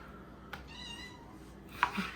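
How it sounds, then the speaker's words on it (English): A faint, thin kitten meow rises briefly in the background, followed by a small clink, over a quiet room hum. "That's our kitten that you hear there in the background."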